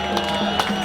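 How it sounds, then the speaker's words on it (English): A rally crowd applauding and cheering, a dense wash of clapping and scattered whoops filling the brief moment at fairly close range. "Give yourselves a massive round of applause."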